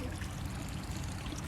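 Water gushes steadily from a pipe at a waterfall, a continuous close, loud rushing pour with no voices.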